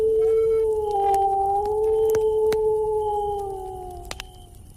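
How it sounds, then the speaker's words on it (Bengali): A jackal howling on a silent, foggy winter night, one long drawn-out tonal howl that holds steady and then fades away, with faint clicks. "চারপাশে নিস্তব্ধতার মাঝে শোনা যাচ্ছে দূরের শিয়ালের ডাক।"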